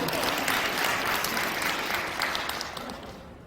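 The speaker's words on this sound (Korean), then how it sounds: "박수 한번 쳐주세요" Steady applause from a church audience at an Advent lecture in Seogok-dong, a dense continuous clapping that fills the space and fades slightly toward the end.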